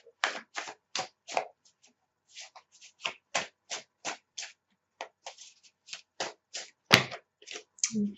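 Tarot cards being shuffled and drawn by hand, a quick series of sharp riffling flicks and taps in short bursts with brief pauses, close and crisp against a quiet background.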